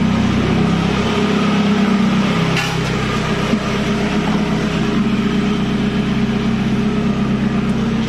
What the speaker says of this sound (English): Pump is so quiet, it actually makes the exhaust sound louder.